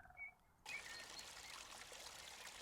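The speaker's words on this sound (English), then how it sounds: "You can pour the water out." Water pouring out of a pool in the House Flipper video game, a steady, soft, bright trickling stream that starts abruptly after a brief electronic tone and continues alone at low volume.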